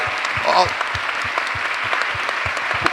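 Convention audience applause for strategic partners at a national plenary session: a broad, even wash of many hands clapping fills the hall, with a few louder claps and faint voices mixed in.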